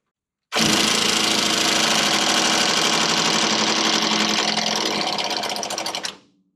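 An impact driver hammering on a stuck trailer bolt, one loud, continuous rattling burst of about six seconds that fades slightly toward the end before stopping abruptly.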